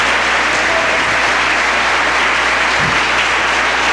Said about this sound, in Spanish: ¿Puede dar un aplauso fuerte al Señor?